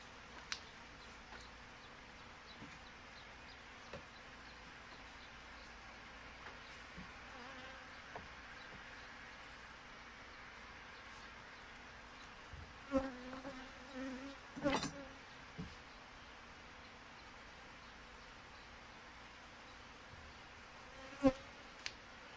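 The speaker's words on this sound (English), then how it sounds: "There's definitely a lot of bees in here." Honey bees hum steadily inside an opened hive, a close, low buzzing that runs throughout, with a few louder passes and handling knocks near the end.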